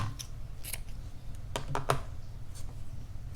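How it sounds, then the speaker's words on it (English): Scissors snip through yarn after a small crocheted baby moccasin is finished: a few quick, crisp cuts spread over about three seconds, close and fairly quiet, with no voices. "Now chain 1 and cut the yarn."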